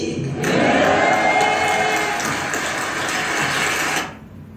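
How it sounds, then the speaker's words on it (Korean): A crowd of pastors breaks into dense, sustained applause in the middle of a song, believing it has ended; the clapping swells quickly, holds steady for about four seconds, then cuts off abruptly. "목회자들이 얼마나 문화에 어수룩하냐면 지금 노래가 중간에 끝난 줄 알고 박수를 친 거예요"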